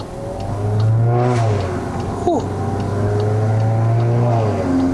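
An MK8 VW Golf 1.4 TSI R-Line has a 150 hp turbocharged engine and an 8-speed Aisin automatic. In Sport Mode, heard through a slightly opened window, it revs up and down in smooth, loud sweeps.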